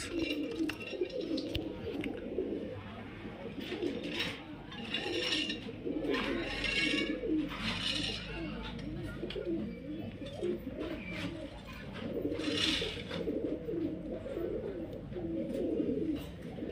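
Pigeons cooing in a steady, overlapping murmur, several birds close by with occasional sharper chirps, continuous throughout with no talking.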